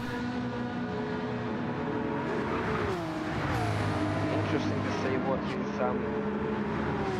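A Black Rose Porsche race car in a racing game at Spa-Francorchamps, its engine holding a steady loud drone down the Kemmel straight, with a commentator talking throughout.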